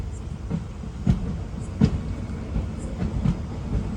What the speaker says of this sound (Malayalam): ബദാമി റെയിൽവേ സ്റ്റേഷനിലേക്ക് ഇതാ ട്രെയിൻ എത്തിക്കൊണ്ടിരിക്കുകയാണ്